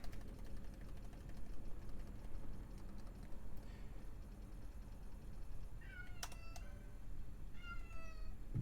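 A cat meows a few times near the end, short rising calls over a steady hum of computer or room noise in the background.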